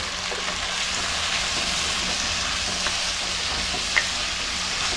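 Tuna fish curry with tomato and curry leaves sizzles in a pan as it is stirred, a steady frying hiss with faint scrapes and one small sharp click near the end, no talking.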